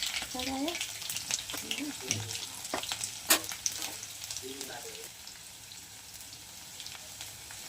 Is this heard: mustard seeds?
yes